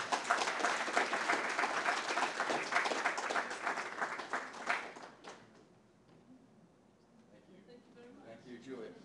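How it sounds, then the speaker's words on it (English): An audience gives a round of applause for a young performer, brisk dense clapping for about five seconds before it dies away, leaving faint murmuring and stray sounds. "One more round of applause,"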